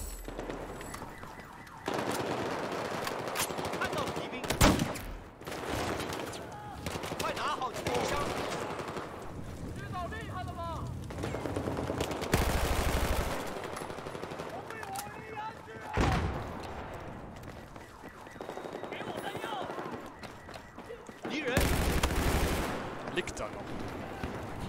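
Battlefield 4 gunfire in a team deathmatch round on the Shanghai map: bursts of automatic fire and sharp shots recur through the clip, mixed with game effects and a voice talking over it.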